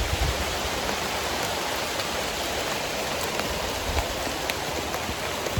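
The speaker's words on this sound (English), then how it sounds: "It did start raining a little bit" Light rain falls steadily on a Hawaii hiking trail, a soft continuous hiss of drops on leaves and ground with a few sharper taps, even in level and with no voices.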